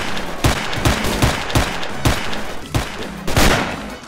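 Bandit gunfire in the S.T.A.L.K.E.R. Anomaly game, with repeated bursts of shots cracking out in uneven clusters across the whole stretch, loud and close, with no talk over it.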